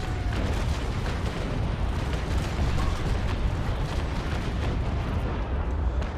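Continuous cannon broadside fire from sailing warships in the naval battle game Naval Action, a dense rumbling barrage of overlapping booms at steady loudness with no pauses.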